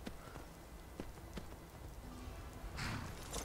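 Hooves of a galloping horse in the video game Skyrim, a quick run of soft clip-clop beats at moderate distance over ambient game noise, ending in a brief burst of noise.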